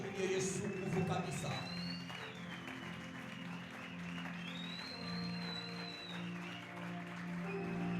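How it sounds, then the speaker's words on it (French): Church congregation applauding and loudly acclaiming Jesus at a worship service, with steady crowd noise and cheering over sustained music throughout. "nous acclamons fortement Jésus"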